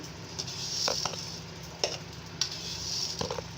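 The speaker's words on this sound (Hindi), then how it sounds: "इसको मुसलसल चलाएंगे और जब तक चीनी ख़त्म नहीं जाएगी हम इसे पकाते रहेंगे" Chana dal halwa with sugar being stirred and cooked in a pan, a soft continuous sizzle broken by a few scraping strokes of the spoon, fairly quiet and with no talking.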